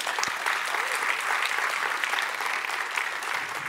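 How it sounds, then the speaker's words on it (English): Conference audience at a product event breaks into sustained, dense applause welcoming a speaker, steady and fairly loud for the whole stretch with no talk over it. "Please give him a warm applause."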